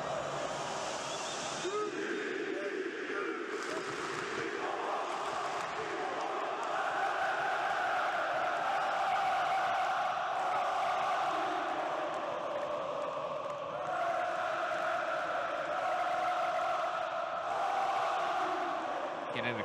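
Massive European football ultras crowd roaring and chanting in a big stadium, a dense sustained wall of voices that swells and dips like surf, heard from within the stands.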